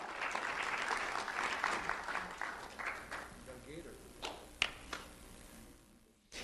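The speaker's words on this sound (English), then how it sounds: "Let's have a round of applause for Kinsley Brereton." Applause from an indoor audience at an award ceremony fills the first few seconds, then thins into scattered claps and fades into quiet room sound.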